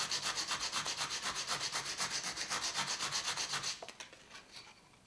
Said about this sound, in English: what I'm going to do is make some sawdust with the type of wood